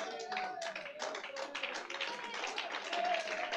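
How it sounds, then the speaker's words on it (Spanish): Thin, sparse clapping rises from a church congregation, scattered and quiet, with a few people still talking over it. "El aplauso es raquítico, no es para mí."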